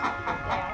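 Brief soft clucking from chickens, a few quick murmuring calls close by.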